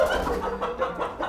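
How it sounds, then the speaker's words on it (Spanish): Chickens in a stirred-up henhouse cluck and squawk in quick, agitated bursts close by, with no talk over them. "¡Ya has alborotado el gallinero!"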